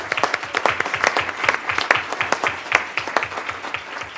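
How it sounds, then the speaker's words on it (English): An audience claps through a school board meeting of Alpine School District, a steady patter of many hands with sharp individual claps standing out, moderately loud and continuous throughout. "would you stand so we can see who you're here applauding, and we'll applaud with you?"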